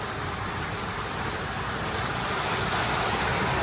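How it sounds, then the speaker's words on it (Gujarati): Steady summer evening rain falls in Ganeshvas, Vadnagar as a broad continuous hiss, even and moderately loud throughout with faint road traffic mixed in. "હવે પાછો વરસાદ ચાલુ થઈ ગયો"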